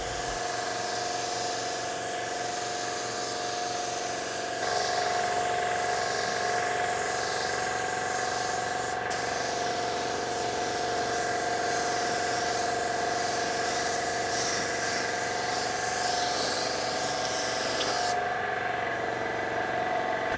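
A spray gun lays a second, slightly heavier clear coat on a car during spot painting, giving a steady close hiss over a constant mechanical hum with no talking.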